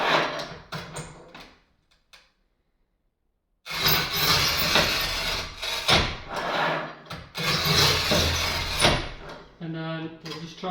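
A worn wheel on a manual tile cutter scores across a bathroom floor tile in a couple of passes, giving loud, gritty, raspy strokes separated by a short silent gap, with brief knocks near the end.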